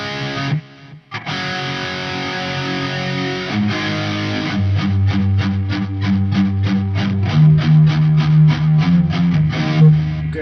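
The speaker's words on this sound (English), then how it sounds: "This is a flange of echo." Lexicon PCM70 effects unit applying a flanger echo to a distorted instrumental passage, the sound sweeping and pulsing in a rapid, even rhythm through a loud, sustained texture, with no voices.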